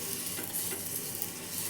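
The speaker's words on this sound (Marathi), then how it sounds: "हे बघा, असं तेल लावायचं" Oil sizzles on a hot tava griddle while mango amboli batter is being prepared, a steady, even frying hiss with no pauses and no voices.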